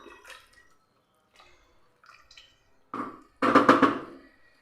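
Water is poured over chicken in a pressure cooker: a few faint drips and small splashes, then a short, louder pour near the end.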